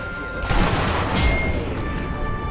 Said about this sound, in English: What the fuck are they shooting at?